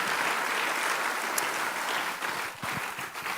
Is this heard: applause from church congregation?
yes